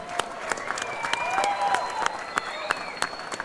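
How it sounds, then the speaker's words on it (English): Crowd at the XKOA 14 heavyweight fight night applauding the heavyweight fighters after a three-round bout, steady clapping with sharp individual claps standing out, under an arena PA and background noise. "a round of applause for your heavyweights this evening"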